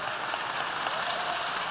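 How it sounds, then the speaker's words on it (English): Continuous applause from a crowd at a book event, a dense even patter of many hands clapping at moderate distance. "Give yourself a round of applause for coming on a Saturday night to celebrate words."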